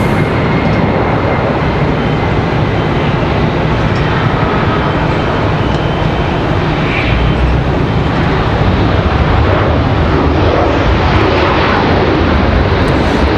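A Delta airliner on arrival at Raleigh-Durham International Airport makes a loud, steady jet roar that stays constant throughout, heard from nearby at the airfield.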